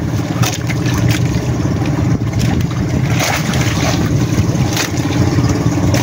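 A large boat's engine drones loud, steady and close on the sea, a continuous heavy rumble with water noise mixed in.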